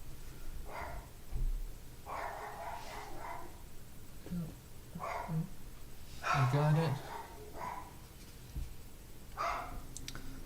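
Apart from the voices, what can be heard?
dog barking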